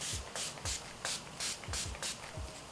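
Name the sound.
setting spray being sprayed on face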